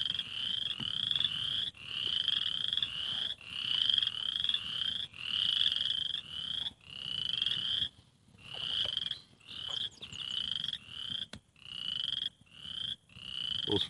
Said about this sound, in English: those frogs are funny